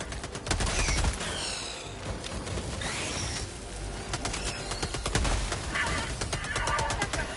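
Dense chaotic gunfire and bursts from the Helldivers 2 video game, with repeated sharp shots and crackling volleys layered over a continuous loud battle din throughout.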